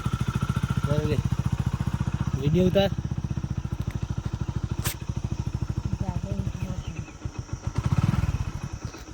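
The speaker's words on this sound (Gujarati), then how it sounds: "તો ગાઈસ હવે બાઇક ચાલુ કરીએ" A motorcycle engine starts and then runs with a close, pulsing putter that rises as it revs and pulls away, while people talk over it.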